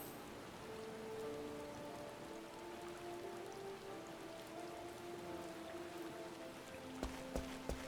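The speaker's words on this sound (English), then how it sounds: "Because it's raining and it's storming and I can't see very well flying anyway" Steady rain and storm ambience from the video game Final Fantasy XIV, a continuous soft hiss of falling rain with faint tonal game music beneath and a few brief sharp clicks near the end.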